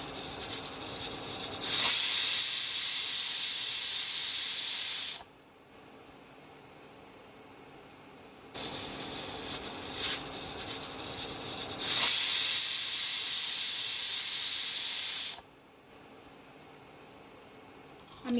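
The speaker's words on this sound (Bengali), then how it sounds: "আমি প্রেসার কুকারটা খুলে নিচ্ছি" A pressure cooker on a mutton curry lets off steam in loud hissing bursts of several seconds each, with quieter stretches in between.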